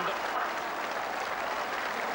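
A football crowd of more than 11,000 at a local derby claps and cheers steadily at the final whistle, a broad wash of applause with a commentator speaking over it.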